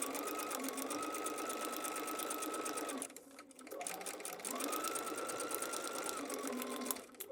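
A sewing machine stitches fabric through foundation paper piecing along a marked line, running in a fast steady rhythmic whir that pauses briefly midway, then resumes and continues to the end.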